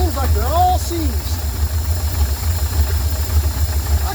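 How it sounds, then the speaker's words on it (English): An old, long-seized engine with no antifreeze in it idles steadily with a low, even rumble, while a voice talks briefly over the start. "I can't believe it set their idling that good"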